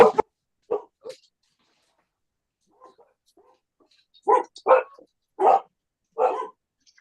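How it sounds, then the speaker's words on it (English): A few sharp, close barks ring out, then a pause and faint whimpers, followed by a run of four or five loud barks. "Apologies for the dogs, but they scare away the creepers"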